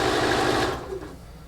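A sewing machine runs a quarter-inch seam for under a second, a close rapid whir that cuts off abruptly into quiet.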